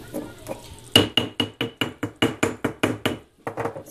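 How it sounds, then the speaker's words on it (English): A container of ground cumin is tapped against a hard kitchen surface, about a dozen sharp, evenly spaced knocks close up, with no talk. "Sorry, tapping the excess out."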